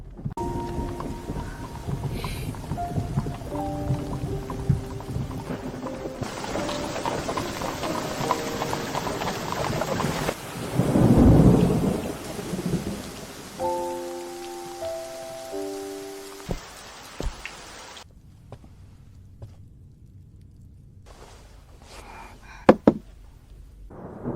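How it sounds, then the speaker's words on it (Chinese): Heavy rain of a night thunderstorm pours steadily, with a deep rumble of thunder swelling midway, mixed under soft tonal music in a historical costume drama scene. "今夜暴雨突至"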